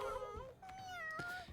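Several cats meow in drawn-out, wailing calls, two or three overlapping tonal cries rising and falling over about a second and a half, fairly quiet in the mix.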